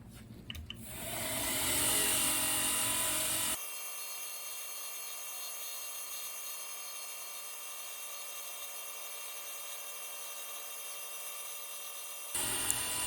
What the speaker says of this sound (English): swap over to a 220 grit J-Flex, and then go over and take the 40 grit scratches out